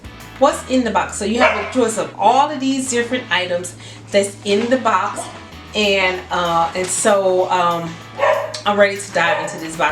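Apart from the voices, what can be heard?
dog barking in the background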